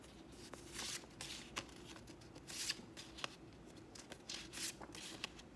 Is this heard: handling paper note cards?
yes